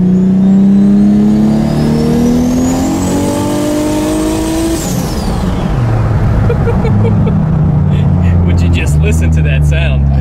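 A 1200 HP 1.5JZ-engined widebody FRS running about 50 psi of boost revs hard and climbs to a screaming peak, then drops back and idles with crackles, loud and close, with talk over it.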